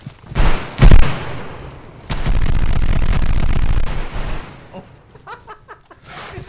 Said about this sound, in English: This gun is so crazy. Dude, I'm going to spray them down.